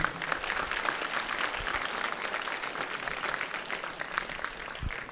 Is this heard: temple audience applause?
yes